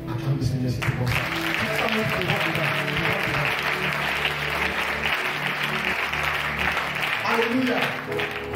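Church congregation applauding steadily throughout, a dense wash of clapping from many hands, with talk and music tones underneath.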